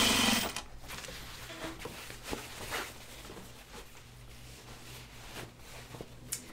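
A sewing machine stitches denim for a pair of Ginger jeans at a slow, even pace, a soft, low running hum after a louder burst at the very start.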